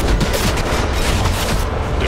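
Rapid missile barrage explosions from a DC Universe Online boss fight in Area 51, a dense, continuous rumble of overlapping blasts and booms filling the whole stretch at steady loudness.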